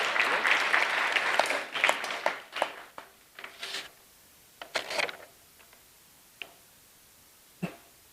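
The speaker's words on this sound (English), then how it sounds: "Please welcome her with a big round of applause." Applause from an audience at a Bharatanatyam arangetram dance recital, a dense burst of clapping that thins out into scattered claps and then a few isolated ones across several seconds.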